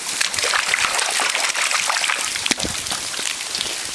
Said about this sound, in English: we're gonna go splash in some puddles